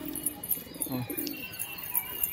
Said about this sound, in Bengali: এটা সব নিচেবাজি পায়রা